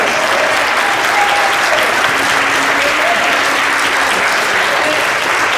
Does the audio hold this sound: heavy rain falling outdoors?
no